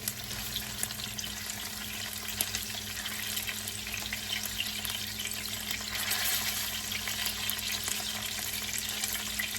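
Pork chops fry steadily in a pan over medium-low heat, a continuous close sizzle and crackle with no talking.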